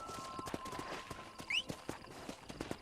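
Horse hooves in Red Dead Redemption clip-clop at a walk, an uneven series of soft thuds with a brief high whistle-like call partway through, over quiet ambient background.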